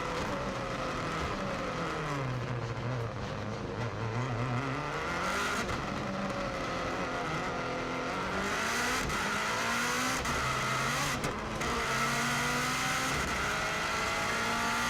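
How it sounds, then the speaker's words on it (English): A car accelerates on the Isle of Man road circuit toward a flying start after a tight hairpin, its loud engine climbing through the gears with repeated pitch sweeps and brief dips at each shift. "So here we go, we're now accelerating for the flying start"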